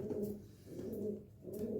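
Pigeons cooing in low, throaty rolling calls, three bursts in steady succession, close by with no other sounds.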